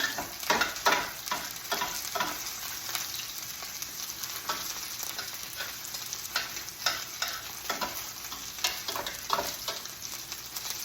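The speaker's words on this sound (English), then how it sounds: "So a little bit of onion with the oil. You just let it cook slowly over time." Onions sizzle and fry slowly in oil in a pan, with a steady crackling hiss and scattered stirring scrapes over about eleven seconds, fairly close and with no talking.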